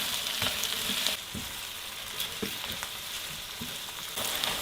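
Garlic fries in a pan with a steady, close sizzle and crackle, broken by occasional soft stirring scrapes, and no talking.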